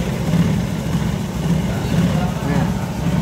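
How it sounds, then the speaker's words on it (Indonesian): A motorcycle engine idling just after an oil change, a steady low rumble held close and even throughout, with a voice speaking over it. "Motor sudah nyala."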